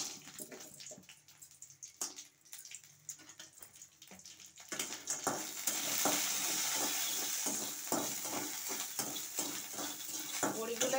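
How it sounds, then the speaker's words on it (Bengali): Lentil dumplings (bori) fry in a little oil in a kadai, a soft sizzle under stirring and scraping clatter that swells into a louder, steady frying hiss halfway through, with no talk. "তার জন্য প্রথমে আমি কড়াইতে একটু তেল দিয়ে বড়িগুলো ভেজে নিচ্ছি।"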